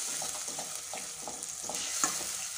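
Ground masala sautéed in hot oil for a methi kofta curry, sizzling steadily up close while a spatula scrapes the pan in a regular, repeated stirring rhythm.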